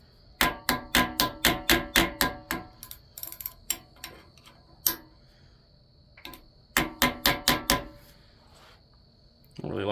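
Rapid series of light metallic taps on a Honda K24A engine part during timing setup, close by, coming in quick rhythmic bursts separated by brief pauses, with a faint tone lingering underneath.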